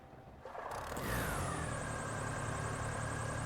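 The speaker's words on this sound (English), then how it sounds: "Just make sure we can hear the engines cranking up first." An aircraft engine in Microsoft Flight Simulator on a Double Ender STOL spools up from a low rumble into a loud, steady whine and drone, building over the first second and then holding.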